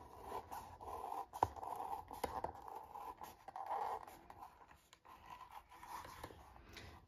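Sharp leather scissors cut through leather for a wet-formed gun holster, giving a close series of dry snipping and scraping strokes with short pauses between them and no talking.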